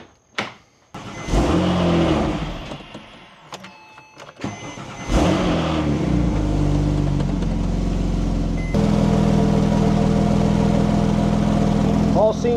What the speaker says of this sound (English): Let's make sure the car still starts.